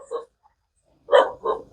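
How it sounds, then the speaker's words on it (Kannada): A dog barking at night in a dark, quiet outdoor spot, one short bark followed by a pause and then two quick barks, faint to moderate against near silence. "ನಾಯಿ ಕೂಗ್ತಾ ಇದೆ"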